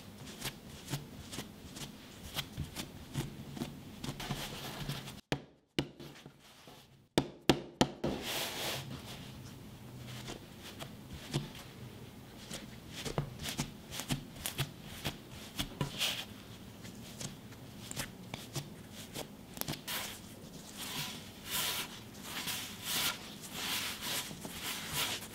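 Bread dough loaves are hand-shaped with the seam tucked underneath, giving soft, rapid rustling and patting against a floured surface, continuous and close, with a brief pause partway through.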